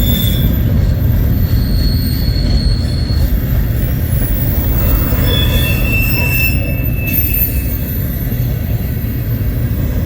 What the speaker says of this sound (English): This is another train that I've never caught coming through here.